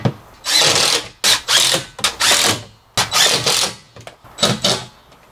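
Loud, close power drill driving screws through wall panels into wood furring strips inside a van conversion, in about eight separate whirring bursts of varying length with brief pauses between.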